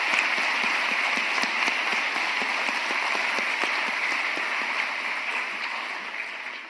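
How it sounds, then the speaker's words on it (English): Round of applause from a commencement audience at a college graduation ceremony in a large hall, dense steady clapping throughout, slowly fading toward the end. "let's give them a round of applause"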